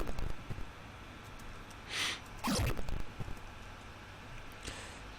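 A designed sound effect for a blast animation of an impulse ability in a game: soft airy noise beds with a hissing swell and a sharp whooshing sweep that rises and falls, then trails away faintly.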